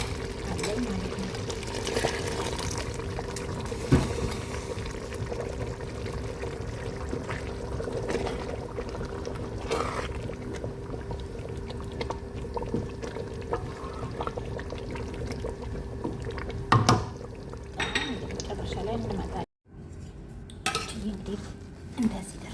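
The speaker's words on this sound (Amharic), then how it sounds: "እንግዲህ ሩዝ እንደዚህ ምንድነው ትንሽ ውሃ ጨምራለሁ። ምንድነው የፈላ ውሃ አለኝ ማለት ነው።" Hot boiling water poured into rice cooking in a pot, with pot and utensil clinks and a steady pouring sound, under ongoing talk over a long stretch and a brief drop near the end.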